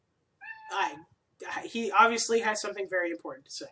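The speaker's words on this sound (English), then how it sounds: "Do you need to meow right now?" A pet cat meows twice, loud and close, in a short burst, then a person talks at length over it.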